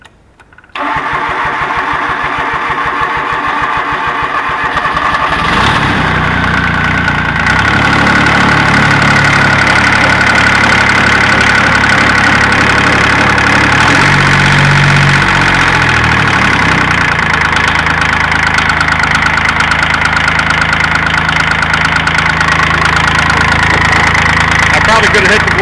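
Cub Cadet 782D diesel engine with upgraded glow plugs cranks briefly, fires and settles into a loud, steady close idle with a knocking diesel chatter that runs on without pause.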